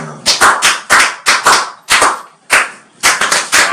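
Church congregation applauding in irregular bursts of sharp, loud hand claps, with short pauses between clusters of claps, close and with no talking.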